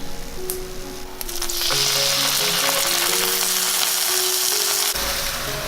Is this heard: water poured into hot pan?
yes